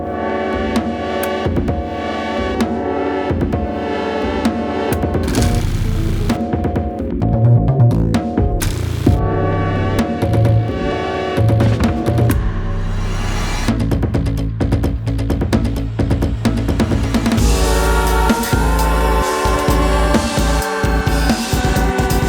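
Polymicrotonal electronic music stacking three microtonal tuning systems, including an Iranian diatonic subset of 125 EDO, with dense layered tones, sustained chords and rhythmic low pulses that shift and thicken over twenty seconds, no voices.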